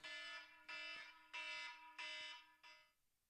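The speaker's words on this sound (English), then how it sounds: "That was the alarm for the first half." Electronic alarm tone blares in five loud, evenly spaced pulses to mark the end of a first half, the last pulse shorter before it stops, with no talking.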